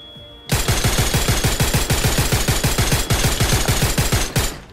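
Rapid video game gunfire hammers out in a fast, even burst of around thirty loud shots after a brief quiet start, then cuts off abruptly.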